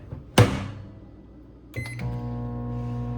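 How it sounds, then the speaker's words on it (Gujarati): A microwave oven warming a dish of food for 15 seconds: first a sharp thump as the door shuts, then a short pause, then button beeps and a steady electric hum as heating begins. "હવે આ માઇક્રોવેવમાં 15 સેકન્ડ ગરમ કરી દો."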